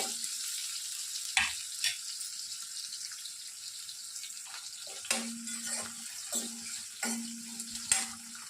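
Onions and green chillies frying in oil in a home kitchen pan, a soft steady sizzle punctuated by occasional sharp clinks and scraping stirs, with a few brief hums in between and no talk.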